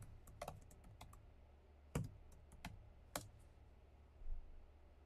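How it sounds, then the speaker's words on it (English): Typing on a computer keyboard indoors, sparse irregular key clicks with a few louder taps standing out, quiet and close, no speech. "Let me type it in now."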